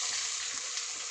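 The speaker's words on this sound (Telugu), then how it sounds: "ఇవి కొంచెం ఎర్రగా రెడ్ కలర్ వచ్చేదాకా ఫ్రై చేసి అయిపోయినాక ఉల్లిగడ్డలు వేసుకోవాలి" Garlic cloves frying in oil with cumin seeds, a brief, steady bright hiss close by.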